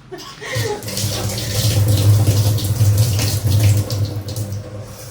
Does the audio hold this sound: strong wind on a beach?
no